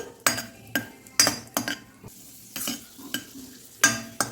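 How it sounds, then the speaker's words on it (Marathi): A handful of raisins frying in ghee for sweet coconut rice: a soft sizzle broken by brisk, repeated spoon scrapes and clinks against the pan, close and fairly loud, with no one speaking. "आता मी याच्यामध्ये टाकून घेते दहा पंधरा किशमिश याला पण आपण फ्राय करून घेऊ ते पटकन फुलले जातात तुपामध्ये"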